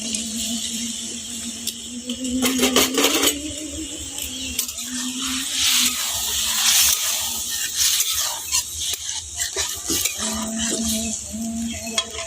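Prawns tipped into a hot pan of cooked-down spice masala for a Bengali malai curry give a steady, bright sizzle with bursts of stirring and scraping against the pan.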